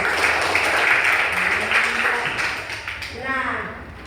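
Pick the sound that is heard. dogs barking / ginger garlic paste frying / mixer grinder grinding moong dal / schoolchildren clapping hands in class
schoolchildren clapping hands in class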